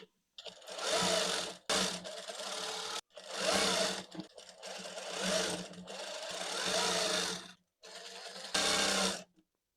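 A sewing machine stitches a kameez in several loud, close bursts of rapid whirring, separated by short pauses.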